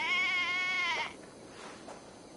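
A sheep in Assassin's Creed Valhalla lets out one loud, wavering bleat up close for about a second, then only quiet ambient game sound follows.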